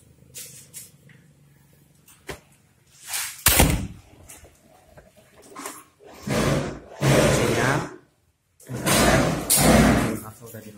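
An aluminium sliding door being fitted during installation, with several loud thuds and sliding knocks spread unevenly, plus people talking quietly in the background.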